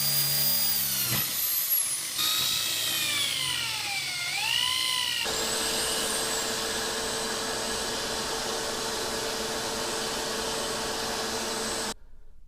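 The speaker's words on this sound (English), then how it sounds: "The first part is drilling out the waste on the inside of the mortise." Power drill boring out the waste inside a mortise in a wooden chair leg, a steady high whine with pitch shifts as the bit loads, close and continuous before stopping abruptly.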